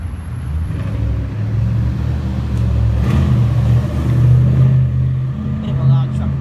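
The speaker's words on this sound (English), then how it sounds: "Bit of a log truck there." A log truck rumbles past in heavy downtown traffic, a steady low engine drone that swells and fades, with city noise around it and no clear talking.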